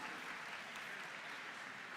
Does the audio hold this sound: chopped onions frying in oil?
no